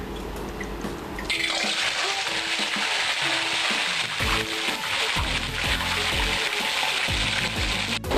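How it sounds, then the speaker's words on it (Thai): Fish frying in hot oil: after a quiet first second, a dense, steady sizzle and crackle fills the rest, close and continuous. "หลังจากที่น้ำมันเราร้อนแล้วนะคะ เราก็จะนำปลาที่เราทำเสร็จไปทอดค่ะ"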